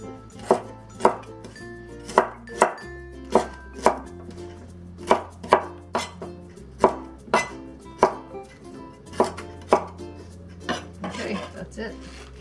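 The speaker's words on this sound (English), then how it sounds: "And for the stems, I'm just gonna slice it." A knife slices Malabar spinach stems on a cutting board in a series of sharp, evenly spaced chops. The strokes are close and distinct, with a low hum running underneath.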